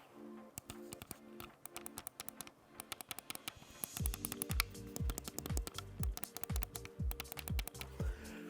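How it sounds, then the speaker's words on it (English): Rapid, sharp plastic clicks from clicky buttons on a GameSir G7 SE game controller pressed in quick bursts, growing louder and denser partway through, with a low hum underneath. "You can remap these buttons, which are super clicky."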